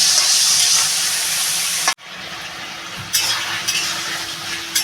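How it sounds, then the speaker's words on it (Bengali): Sliced ridge gourd with turmeric and fried spices sizzles loudly in a pan while being stirred. The steady hiss cuts off briefly near the middle, then resumes with scraping stirs. "এবার আমি এটা ভালো করে কষাবো"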